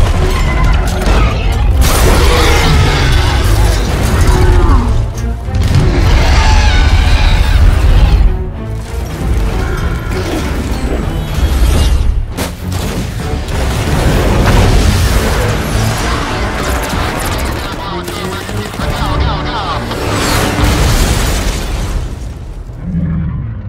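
Film explosions and booming impacts as jets and missiles attack a giant kaiju, loud and continuous with dense rumbling blasts, crashes and mechanical clatter throughout, no speech.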